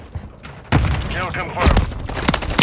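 Gunfire in a military shooter video game, bursts of shots and booms that come close and loud over in-game radio chatter and voices.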